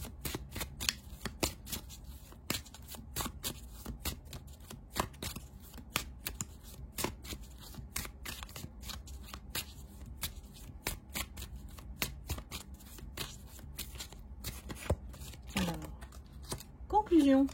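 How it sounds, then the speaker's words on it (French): Tarot cards being shuffled and drawn: dense, rapid riffling and snapping of card stock runs steadily throughout, close and fairly loud, with a brief voice-like sound near the end. "Allez, je prends encore quelques cartes pour conclure"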